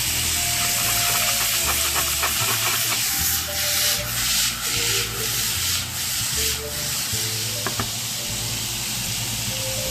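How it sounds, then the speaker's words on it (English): A pan of onions hisses and sizzles steadily as brandy goes in to deglaze it for steak au poivre, a close, continuous broadband frying hiss with faint scraping and bubbling. "We're deglazing this pan. Now to that, we're going to add some brandy."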